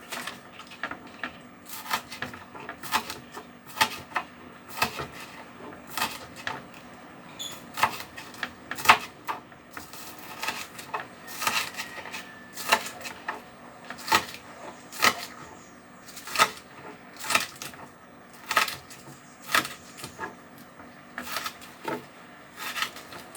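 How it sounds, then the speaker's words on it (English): Knife chopping chives on a cutting board: a steady run of sharp, evenly spaced taps repeats close by for the whole stretch, with quiet kitchen ambience beneath. "I hate to cut chives"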